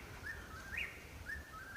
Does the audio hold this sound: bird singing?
yes